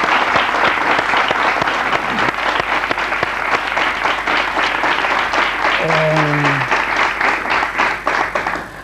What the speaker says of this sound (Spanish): Fíjate que se merece un aplauso